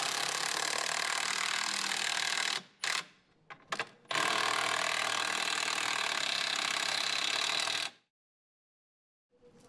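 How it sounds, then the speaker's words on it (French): A drill support being anchored to a wall with bolts and wall plugs during self-build construction work: loud, steady mechanical whirring and ratcheting, broken by a few short pauses and bursts, then stopping abruptly near the end. "Avec quelques chevilles et les boulons correspondants, nous pouvons ancrer ceci solidement."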